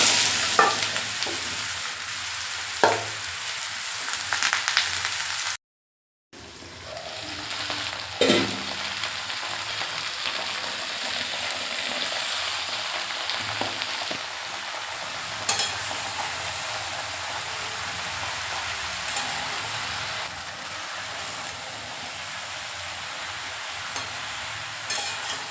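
Ridge gourd frying in hot oil with dried chilli and nigella seeds gives a steady, close sizzle throughout, with occasional stirring scrapes and a brief dropout in the middle.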